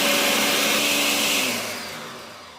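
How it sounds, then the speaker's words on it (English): A blender blending pomegranates whirs at high speed nearby, a loud buzzing whine that winds down and fades over the last second. "Now we got all the pomegranates that we're gonna put into this blender."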